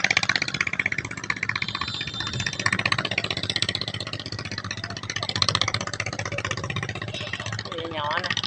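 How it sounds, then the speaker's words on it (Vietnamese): A small boat speeds along a river in the Mekong Delta, its engine a steady, fairly loud mid-pitched drone that runs throughout, with someone talking over it. "Có một cái ghe nhỏ chạy rất là lẹ luôn các bạn."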